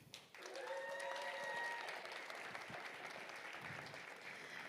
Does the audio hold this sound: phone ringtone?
no